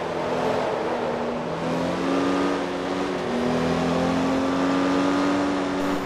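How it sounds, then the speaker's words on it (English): Race cars in a racing video game accelerate out of the pits at Motegi Raceway, their engines whining in a loud, continuous drone with rising pitch as they gather speed. "And coming out of the pits now, we have Hendricks"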